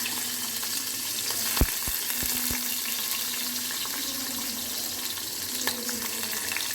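Capsicum frying in oil in a pan, a dense continuous sizzle with a few sharp clicks and knocks of utensils, close and fairly loud, no speech over it.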